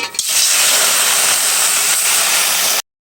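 Water poured onto fried lentils in a pan for vegetable dal bursts into a loud, close, continuous steam hiss that holds for a few seconds and then stops abruptly.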